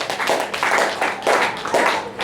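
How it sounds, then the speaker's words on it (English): A church congregation claps together in bursts with a loose rhythm, the sound moderately close and carrying without any talk over it. "Clap for Jesus"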